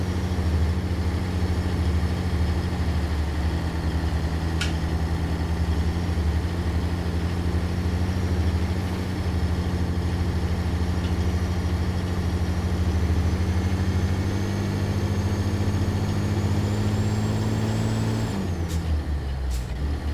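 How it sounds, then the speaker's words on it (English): A truck's diesel engine idles steadily in American Truck Simulator with a deep, constant rumble for a long stretch, then briefly changes pitch near the end. "Engine's already pretty loud."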